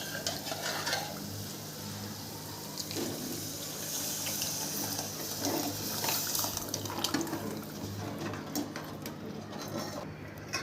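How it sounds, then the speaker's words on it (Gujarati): Water is poured into a pot of sambar where lentils have been simmering in oil, giving a steady, close rush of pouring and bubbling for about ten seconds with no talking. "હજી આપણે 1 ગ્લાસ જેટલું પાણી નાખીશું"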